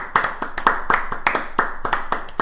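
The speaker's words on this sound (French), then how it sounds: "Je propose qu'on s'applaudisse un peu" A few people in a small studio clap for themselves at the start of a show, giving sharp, close, fairly steady handclaps that keep going for a couple of seconds with no voices.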